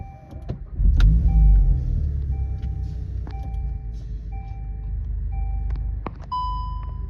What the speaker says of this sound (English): you can hear that 2-liter turbocharged 4-cylinder come to life